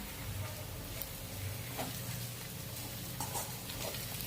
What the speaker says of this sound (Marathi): त्यामध्ये आपण शेंगदाण्याचा जाडसर कूट घालून घेऊया. आणि परतून घेऊया.